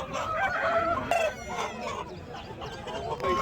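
Several roosters crow over steady clucking from a flock of chickens at a poultry market in Nallapadu, loud and close, with the calls overlapping throughout.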